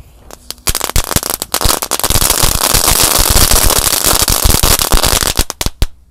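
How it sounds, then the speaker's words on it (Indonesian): Three packs of Dino egg firecrackers lit together at once burst in a dense, loud, continuous run of sharp cracks and pops for several seconds before thinning to a few last bangs. "Selanjutnya ini ada mercon telur Dino Pratek."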